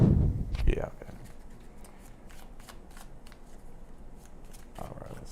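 Deck of tarot cards being shuffled close by, a dense riffling burst at the start followed by softer intermittent card shuffling and light handling, with a voice speaking underneath at moments.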